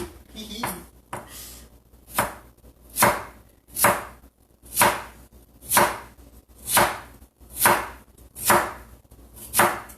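A knife slices yams on a cutting board in close, crisp chops that land at a steady pace of about one per second, each with a sharp thunk against the board.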